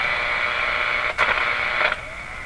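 A distant AM station comes in faintly on an RCA Victor Model 911KG console radio, hissing and crackling with steady static, two brief bursts of louder interference, and no clear voice or music.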